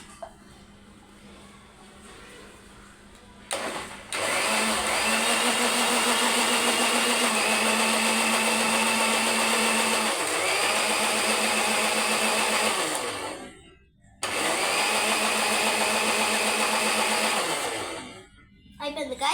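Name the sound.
mixer grinder running again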